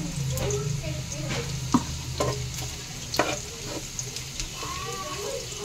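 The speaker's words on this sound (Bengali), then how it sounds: "দেখো তেলও মা অলরেডি গরম করতে দিয়ে দিয়েছে, তো এগুলো ভেজে নেওয়ার পর চিলি চিকেনটা মা রান্না করবে আর কি।" Marinated chilli chicken frying in hot oil in a home kitchen, a steady close sizzle with occasional stirring clatters and scrapes.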